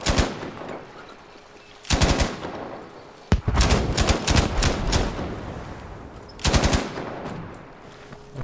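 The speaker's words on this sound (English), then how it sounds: "Kita akan guna machine gun." Machine gun fire in the shooter game Battlefield V, loud rapid bursts of several rounds each, separated by quieter gaps of ambient battlefield noise.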